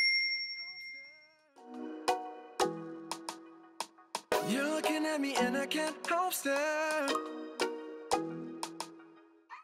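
A bright notification bell rings out in a quick series of clear, tinkling dings of varying pitch that overlap and ring on, with no voices present.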